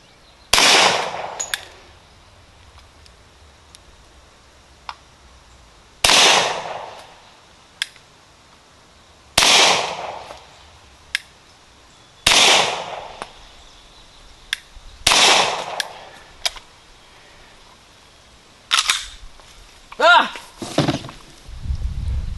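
Five sharp, loud gunshots from an HK Mark 23 pistol loaded with Winchester copper silver tip rounds crack out at even intervals a few seconds apart, followed by a quick final burst of shots, with short pauses between them.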